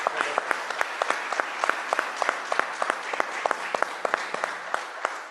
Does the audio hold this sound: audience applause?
yes